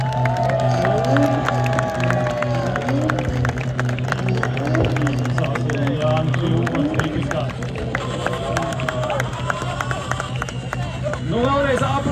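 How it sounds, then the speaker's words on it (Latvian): Dense crowd at a car burnout event applauding and cheering, a loud continuous wash of clapping and shouts, with a voice talking over it and engine noise running underneath. "Nu vēlreiz aplausī"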